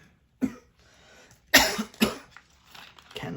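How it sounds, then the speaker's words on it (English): A few separate dry coughs from one person, close and fairly sharp, spaced irregularly with quiet gaps between them and no speech. "Can't stop coughing."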